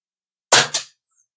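A single sharp crack from a budget PCP air rifle firing a shot, close and loud with a brief second report or pellet impact right after, then silence.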